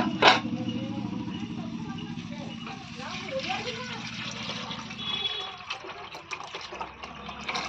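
Tamarind water pours into a pan of sautéed tomatoes and green chilies for a crab curry, a soft liquid splash and trickle heard under steady talking.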